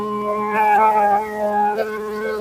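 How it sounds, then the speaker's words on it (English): Honey bees hum and buzz around an open hive during an autumn inspection. The tone is steady and droning with gentle swells in pitch and loudness, fairly close and continuous, with no talk. "I've got to smoke these bees down because they're a bit touchy"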